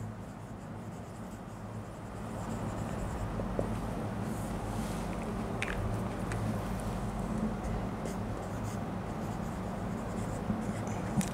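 A pen or marker scratches continuously as properties are written by hand during a physics lecture on refraction and lenses, with a steady low background hum and no talking.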